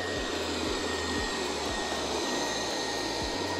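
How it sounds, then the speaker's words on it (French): A robot vacuum and mop with an automatic emptying station, running at 3000 Pa suction, gives a steady close whirring hum that holds without a break and sounds alone. "On est donc sur un aspirateur qui aspire donc avec une puissance de 3000 pascal."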